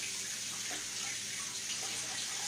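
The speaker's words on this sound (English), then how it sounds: "now I'm going to wash my hands" Hands washed under a steadily running kitchen tap, an even close hiss of flowing water with faint splashing, no voices.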